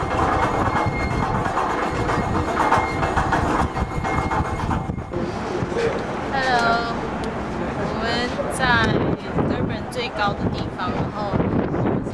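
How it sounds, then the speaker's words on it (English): SkyTrain cabin climbing the arch of Durban's Moses Mabhida Stadium, built for the 2010 World Cup, toward a viewing platform 100 meters above the soccer field. A steady rolling rumble with wind noise runs throughout, with voices talking over it. "the SkyTrain will take us to the viewing platform, which is about 100 meters above the soccer stadium itself"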